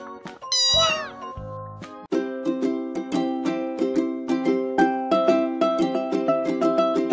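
A cat meows once up close with a drawn-out, wavering cry, followed by a steady run of bright, plucked musical notes.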